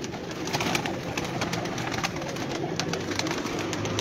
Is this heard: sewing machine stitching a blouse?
no